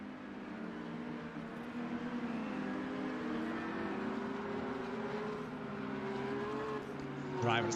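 Simulated Porsche race cars in a Flat6 Asia Cup round at an India circuit rumble on a warm-up lap, a steady engine drone rising and falling slightly throughout, with a brief louder swell near the end.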